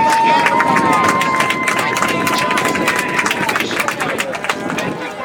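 A homecoming crowd at a college soccer match claps and cheers for the court nominees, a broad wash of applause and crowd noise with a steady announcer-like tone running underneath.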